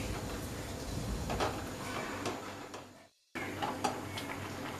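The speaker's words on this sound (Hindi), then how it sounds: "इसे हम 2 मिनट और पका लेंगे और गैस की फ्लेम को हम मीडियम में रखेंगे और इसे लगातार चलाएंगे" Dalia kheer stirred continuously in a pot on a stove over a medium gas flame, a close, steady scraping and light clinking of a spoon against metal, broken by a brief pause.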